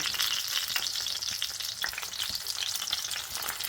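Steady, close sizzling of eggplant slices frying in hot oil in a pan, a continuous crackling hiss with small pops and no voices.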